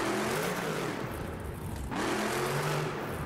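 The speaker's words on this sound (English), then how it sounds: "this is a cool truck, and the engine noise is awesome in this truck" Monster truck engine in BeamNG.drive revs with a steady harmonic drone that dips briefly, then climbs back to a loud, sustained roar.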